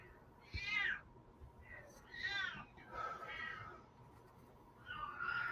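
A domestic cat meows insistently indoors, four drawn-out, rising-and-falling cries spaced a second or so apart, fairly quiet and close, with faint background noise between them.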